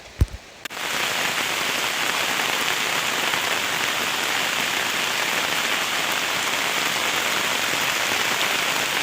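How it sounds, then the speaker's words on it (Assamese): Steady, dense rain falls on surfaces outdoors near a house, a continuous hiss of drops that starts after a brief click and holds evenly throughout. "কি মজা বৰষুণ দি আছে।"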